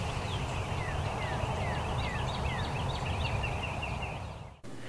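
Wild turkeys sounding off at daylight around a field, faint repeated descending calls in a rhythmic series above constant outdoor background noise, ending in a brief clunk.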